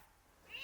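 A pet cat gives a single short, faint meow that rises at the very end, alone with no talking.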